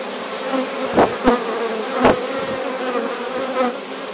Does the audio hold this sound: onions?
no